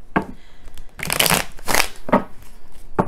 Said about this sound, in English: Give it a good shuffle, shuffle.